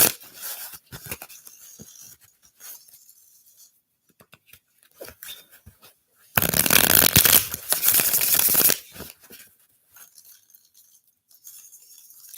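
Tarot cards are shuffled in a burst of riffling and rustling about two seconds long, close and loud, set among scattered faint taps and small handling noises in a quiet room.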